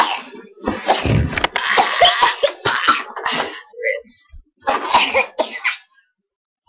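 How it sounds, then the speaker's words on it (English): A male coughs in a series of rough, close bursts, with a few throaty, breathy sounds in between and brief pauses, before going quiet near the end. "He's got a bit of a cough."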